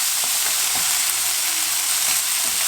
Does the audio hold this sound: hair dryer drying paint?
no